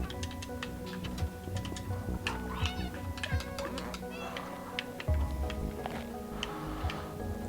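A cat meows in the video game Stray, several short mewing calls scattered over a busy game soundscape with ticking clicks and rapid mouse-wheel clatter, with a person talking now and then.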